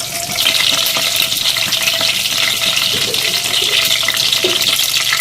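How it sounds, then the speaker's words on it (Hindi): Loud, steady sizzling of spices and curry leaves frying in hot oil for a dal tempering, a continuous crackling hiss heard up close. "इसके अंदर हम बस इन दोनों चीज़ों का ही तड़का बना के लगाते हैं"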